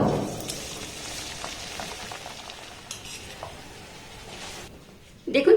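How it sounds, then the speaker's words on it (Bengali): Pitha cakes frying in hot oil, a steady close sizzle with a few stirring and utensil clinks, ending in a brief louder scrape. "একইভাবে আবার এটাকে আমি ভেজে নেব"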